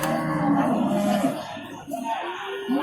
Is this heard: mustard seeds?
no